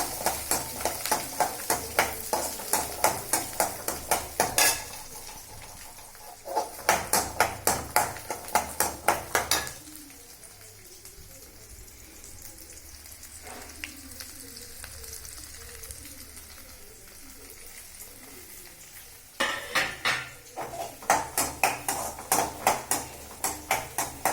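Shallots and garlic fry in hot oil, a crackling sizzle that stays steady, broken by bursts of rapid clinking as a utensil stirs against the pan.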